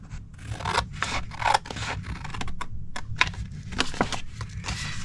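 Paper trimmer blade sliding through cardstock along a score line while making a gingerbread cookie treat box, heard as a series of close, scratchy rasping strokes with short pauses between them.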